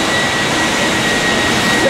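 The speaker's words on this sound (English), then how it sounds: "suck up the boric acid," A vacuum sucking up boric acid powder, run through a slider valve, gives a loud steady roaring whoosh that stays constant throughout, with no talking over it.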